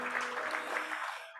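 Church congregation claps during a worship service, a brief, fairly faint burst of applause that tails off quickly.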